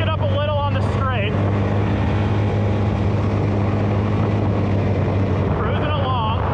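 ATV and side-by-side vehicles riding a dirt trail, a loud, steady engine drone with wind and rumble close up, while a voice speaks over it near the start and end.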